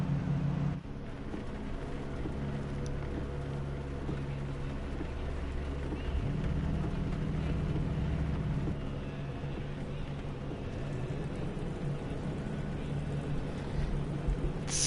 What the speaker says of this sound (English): And you can hear some of the engines now begin.